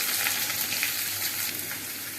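Steady, bright sizzling of chopped small onions frying in hot oil, continuous and close, with no voices.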